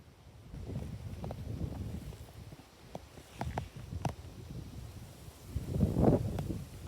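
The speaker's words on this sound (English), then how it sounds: "You can hear what I mean about the wind" Wind gusts through a grassy garden meadow, a soft low rushing that swells and fades, with light rustling and a few faint clicks and knocks, rising strongest near the end.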